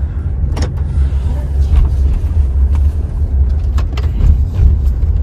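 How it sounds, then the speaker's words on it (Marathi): A car driving on the road with a steady low engine and road rumble heard from inside the cabin, plus occasional faint knocks and clicks; no talk. "आता गाडी चालवते"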